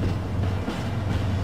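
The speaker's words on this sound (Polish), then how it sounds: "Tak, jesteśmy na pociągu." Steady low rumble of a moving train in Alien vs. Predator (2010), a continuous droning roll without distinct clacks, heard close and loud throughout.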